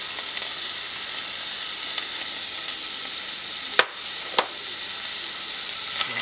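One whole diced onion sautéing in two tablespoons of melted butter, a steady close sizzle with a few sharp clicks of a utensil against the pan.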